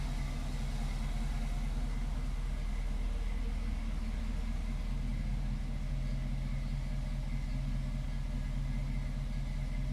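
A healthy-sounding 5-liter car engine idles steadily in a garage, a continuous low rumble with a smooth, even pulse that holds at a constant loudness throughout with no voices.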